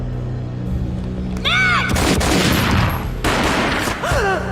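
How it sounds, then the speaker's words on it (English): Gunfire in the video game Max Payne: a heavy, booming burst of shots with echoing impacts, loud and close, mixed with whooshing game effects and a dense, sustained rumble over several seconds. "A gunshot boomed and she fell down in slow motion."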